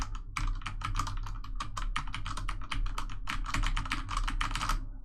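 Rapid, continuous typing on a mechanical keyboard fitted with fairly quiet switches, heard up close as dense clusters of keystrokes with a short pause midway, over a steady low hum.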